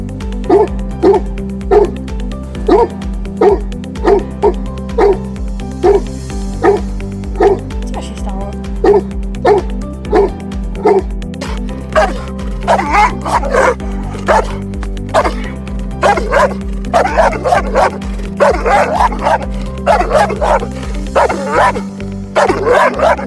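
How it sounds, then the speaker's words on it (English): A Tosa Inu barks loudly and repeatedly in a steady rhythm of deep, booming woofs, growing more rapid and frantic toward the end, with a voice talking over parts of it. "the Tosa Inu has a powerful bark and it's a lot louder than you think"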